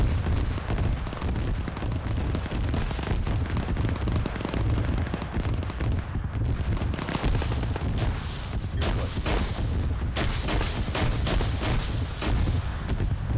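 Continuous barrage of gunfire in a Stargate-themed military video game, dense overlapping shots and booms rattling steadily at close range throughout.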